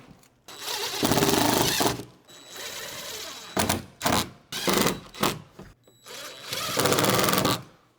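A power driver sets screws while installing a window on a Mercedes Sprinter van, its motor whirring in several loud sustained bursts with short pauses and knocks between them.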